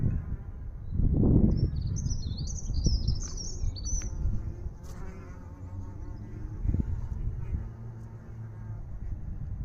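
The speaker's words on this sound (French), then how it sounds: "Ces abeilles solitaires." Solitary bees buzz around an insect hotel, droning in the background, with a louder pass near the start and high bird chirps over the steady hum.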